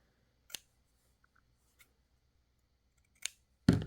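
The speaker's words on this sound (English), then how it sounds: "I can take my scissors and just snip into that if I want to." Scissors snip into fabric flower petals in a few sharp, isolated cuts spaced apart in a quiet room, ending with a louder rustle of handling.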